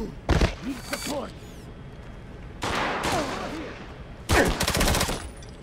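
Bursts of automatic gunfire from the James Bond 007: Blood Stone video game come in three loud volleys separated by short lulls, with shouted voices mixed into the firefight.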